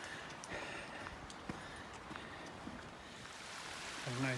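Steady rushing water from a small trailside waterfall pouring into a creek fills the clip with broadband splashing noise and a few faint clicks.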